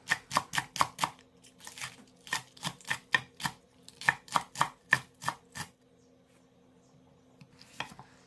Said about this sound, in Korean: 양파 파란 부분으로 반개 썰어 주겠습니다.